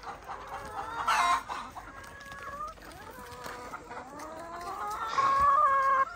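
Chickens clucking and calling excitedly around a piece of banana tree, with a run of rising, overlapping cackles and two louder squawking bursts, close by and without talk.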